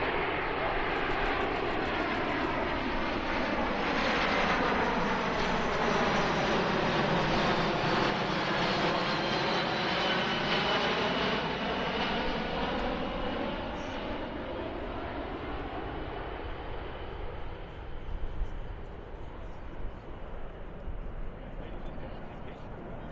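A C-17 transport aircraft roars past at an air show, its heavy jet engines rising and sweeping through a long flyby with a Doppler-like arc before fading into the distance, with faint crowd sounds near the end.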